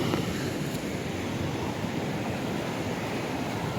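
Sea waves wash up on Sangudurai beach in Kanyakumari, a steady loud roar of surf with wind rushing across the microphone, continuous and even with no distinct breaks or voices.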